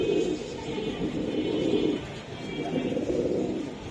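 A pair of blue Indian Madrasi pigeons coo in repeated low, throaty rolling bursts, close and fairly loud, with little else around.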